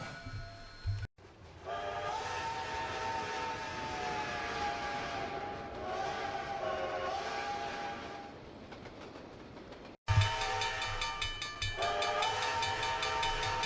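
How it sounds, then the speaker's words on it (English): A passenger train rumbles along steadily while a loud horn sounds in long held blasts, broken by two brief cuts. "I'll be keeping an eye on you to see how hard it is to haul a passenger train."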